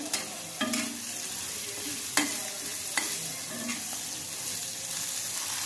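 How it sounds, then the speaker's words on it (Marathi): Cluster beans (guar) roasting in a pan over a high gas flame, with a steady hiss and sizzle broken by several sharp stirring scrapes and clicks, close and fairly quiet, with no voices. "ही गवारी आपण चांगली भाजायची।"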